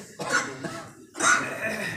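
A person with a chest cold and tight chest gives a couple of rough, harsh coughs, close and fairly loud, with a short pause between bursts.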